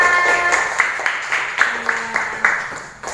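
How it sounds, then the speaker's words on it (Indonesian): Classroom of children clapping for a classmate's presentation, a brisk patter of small hands with some sharper claps standing out, close and steady, with a faint voice and a brief tone in the middle. "tepuk tangan untuk teman kita"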